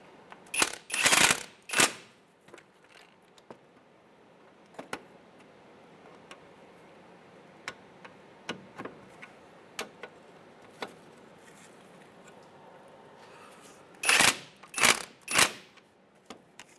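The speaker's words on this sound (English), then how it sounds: "with a 19mm wrench on the nut side and a 17mm socket on the bolt side, we'll snug these up." Ratchet clicks and metallic clanks from a 19mm wrench and 17mm socket snugging strut bolts on a 2011-2016 Hyundai Elantra, with bursts of rapid ratcheting at the start and end and scattered single ticks between, fairly close in a quiet space.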